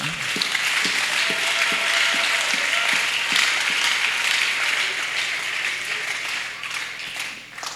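A church congregation claps steadily for several seconds, a dense wash of applause that fills the room before tapering off near the end.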